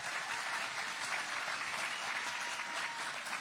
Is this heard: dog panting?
no